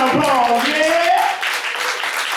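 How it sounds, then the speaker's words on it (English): Audience applause welcomes a speaker to the stage, scattered clapping beneath a loud voice calling out at the start, then continuing at a lower, uneven level on its own. "Give a round of applause, yeah!"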